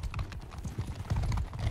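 Horse archers' hooves clatter in Mount & Blade 2: Bannerlord, a rapid, loud, continuous clip-clop of many galloping horses with no talk over it.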